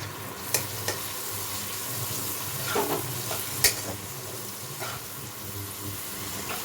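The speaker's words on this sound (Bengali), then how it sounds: "আর একটু ভাজতে হবে পেঁয়াজটা" Onion slices frying with salt in a pan for a Bengali mustard-poppy-seed curry give a steady close sizzle, broken by occasional sharp clicks and scrapes of a spatula stirring, with no talking.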